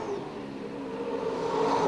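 A super sedan race car engine roars down the back straight at Bendigo Speedway, a dirt oval, during a 1991 national title race, with a steady, loud droning whine that builds slightly as it accelerates.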